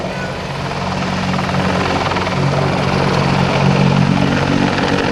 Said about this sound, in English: This is an A model AH-64.